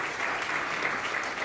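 Audience applause at a children's stage show, a dense, steady wash of many hands clapping, loud and close, with a faint voice beneath.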